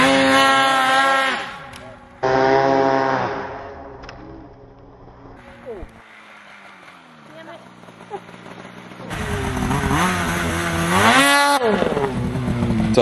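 Polaris Pro RMK 850 snowmobile two-stroke engine revving hard in bursts during a wheelie attempt on a snowy trail, loud and close, rising and falling with throttle, with quieter lulls in between.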